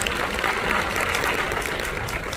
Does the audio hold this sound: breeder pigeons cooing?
no